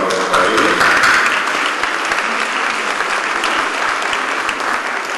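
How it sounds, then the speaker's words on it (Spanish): A conference audience at a consumer-code forum applauds the speakers, a dense, loud, steady burst of many hands clapping that fills the room and holds without fading. "Un aplauso para ellos."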